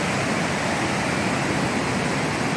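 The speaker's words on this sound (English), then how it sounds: "It's a beautiful waterfall." Alsea Falls, a waterfall in Oregon, roars as a loud, dense, unbroken rush of falling water heard up close.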